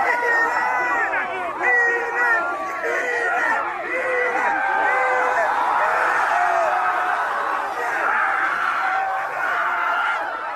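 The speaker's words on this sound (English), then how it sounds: "as you can tell from the roar of the crowd" A Philadelphia celebration crowd roars and screams continuously, with loud whoops, cheers and layered shouting voices rising and falling throughout.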